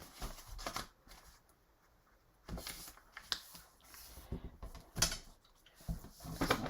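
Paper is folded in half for an altered envelope, giving a few crisp, fairly close crinkles and creases in short bursts with quieter gaps between, alone and without talk.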